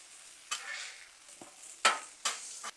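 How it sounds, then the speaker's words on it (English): Teaspoon of minced garlic stirred on a hot Blackstone griddle, with a steady sizzle broken by several sharp scraping strokes of a spatula against the metal surface, close and fairly loud. "Throwing a teaspoon of minced garlic in there."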